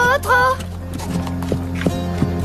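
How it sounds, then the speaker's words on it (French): A horse's hooves clip-clop in a few spaced thuds on a ranch, heard under a voice and music. "T'es un bon cheval."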